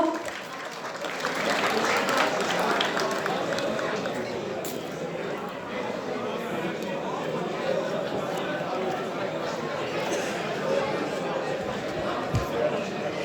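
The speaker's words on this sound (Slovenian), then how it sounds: "Dajmo en močan aplavz, da ga spodbudimo" Strong, sustained applause from an audience at an outdoor wine awards ceremony in Veliki Gaber, a steady dense wash of clapping that holds for the whole stretch, with crowd chatter mixed in.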